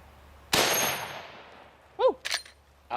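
A single loud, close rifle shot from a .45-70 firing a 325-grain bullet at titanium, with a sharp crack and long decaying echo, followed by a brief metallic ricochet-like ping and a clatter.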